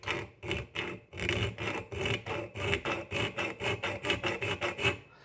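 A round file rasps a small divot into a metal jaw harp frame, about twenty quick rhythmic strokes that speed up slightly, close and steady with no talk.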